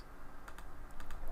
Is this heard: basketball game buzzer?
no